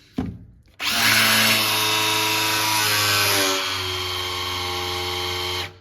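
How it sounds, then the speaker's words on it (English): A cordless drill spins the oil pump of a shed-built 360 V8 engine to pre-lube it, starting with a click, then whirring steadily and close, its pitch dropping partway through as the pump loads it down. "You can tell the pump is working by the way the drill bogs down."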